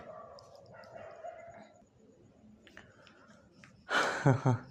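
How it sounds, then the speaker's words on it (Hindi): Dogs at night, first with faint, thin distant calls, then a sudden loud, close burst of a few barks near the end. "रात का टाइम होने की वजह से क्या होता है ना कि कुत्ते बहुत ज़्यादा ही आवाज़ करने लगते हैं"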